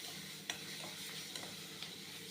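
Onion and chopped tomato sautéing in a pan give a soft, steady sizzle with a few light clicks of stirring, quiet and continuous with no voices.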